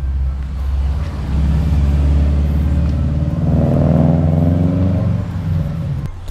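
A car engine rumbles nearby, swelling louder as it passes and then fading, a low throaty drone.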